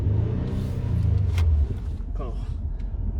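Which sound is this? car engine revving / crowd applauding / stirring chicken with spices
car engine revving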